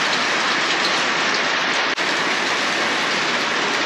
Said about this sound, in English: It just started raining early this morning, late last night.